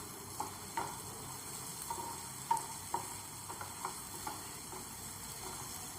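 Finely chopped curry leaves fry in oil with a faint, low sizzle, punctuated by a few light, irregular clicks of a spoon stirring in the pan, quiet and without voices.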